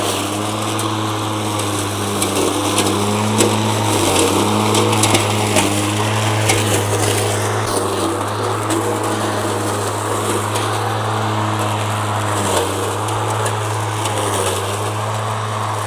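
A Mowrator S1 robotic lawn mower cutting through brush on muddy ground, its engine droning loud and steady while blades chop and crunch vegetation, close with no talking.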